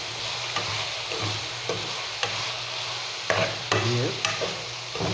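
Whole spices, cloves, black peppercorns, cardamom and cinnamon, fry in hot oil with a steady close sizzle while a spoon stirs and clinks against the pan.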